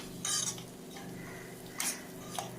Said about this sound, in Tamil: தேங்காய் துருவல் சேர்த்து நல்லா கிளறிட்டு